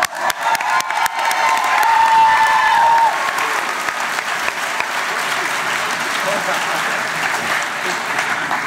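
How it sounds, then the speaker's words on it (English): An audience at a high school graduation ceremony gives loud, sustained applause that rises and then holds steady, a dense crowd clapping with a few cheers. "Your applause have done it for me."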